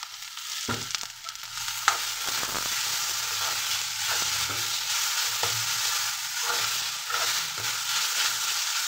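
Ground dried taro powder fries together with onions in hot oil, a loud steady sizzle punctuated by a sharp clank at the start and regular stirring scrapes throughout, with no speech.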